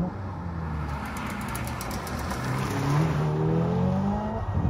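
Hyundai Ioniq 5 N electric car driving hard on a race track, with a loud synthetic engine-like whine rising and shifting through simulated gears, plus high tire noise, heard from inside the car.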